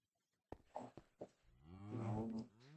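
A donkey in the Minecraft Stoneblock modpack lets out a loud, close braying call, starting with a few short grunts after a moment of silence and swelling into a long, wavering honk.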